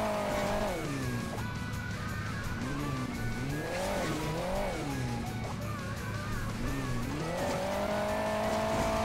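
A car in the Hill Climb Racing 2 video game drives with a steady engine drone while its tires squeal in repeated rising and falling skids, loud and continuous.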